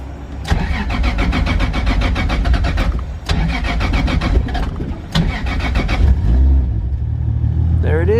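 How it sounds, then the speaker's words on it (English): A 2JZ-swapped Nissan 240SX that has sat for weeks cranks with repeated starter whirs, then fires and settles into a loud, close idle, with people talking alongside it. "We're gonna start the car and see if everything is spinning under there."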